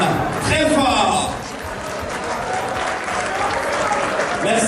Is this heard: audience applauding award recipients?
yes